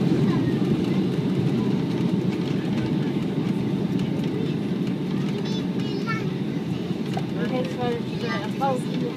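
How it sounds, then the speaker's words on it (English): A Boeing 757 roars with reverse thrust just after touching down at Marsa Alam, a loud broadband rumble filling the cabin throughout, with a voice speaking over it partway through. "We're on the ground. Spoilers deployed and reverse thrust."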